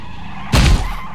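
A motorcycle in PUBG skids while braking: a single short, harsh scrape with a low rumble that lasts under a second, loud against quiet game background.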